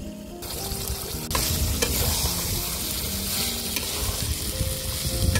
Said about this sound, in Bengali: এখন আমি মাংস দিয়ে দিব। মাংস কষানোর উপরে যে ভেজে রাখা আলু দিয়ে দিব।